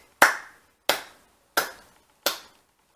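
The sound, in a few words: hands clapping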